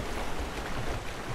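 Swimming through water in Rise of the Tomb Raider brings a steady, dense wash of splashing and rushing water that fills the short stretch without a break.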